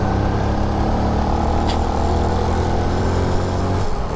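Yamaha PG-1 motorcycle being ridden on spiked tires, a steady loud engine drone with a constant tire hum throughout, no speech.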